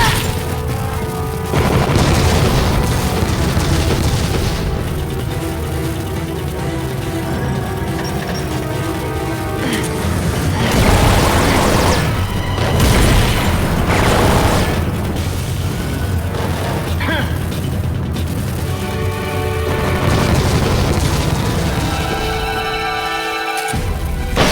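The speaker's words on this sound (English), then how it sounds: "Why did that one just explode?" Continuous loud booming and rumbling blasts from explosions in a Metal Gear Solid game, a dense, sustained wall of heavy detonations with no pauses, with no talking heard.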